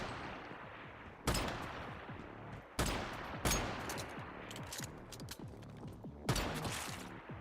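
Pistol gunfire in the video game Once Human: four or five sharp, punchy shots at irregular intervals, each with a short decaying tail over a low, steady game ambience.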